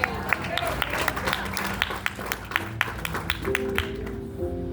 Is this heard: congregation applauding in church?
yes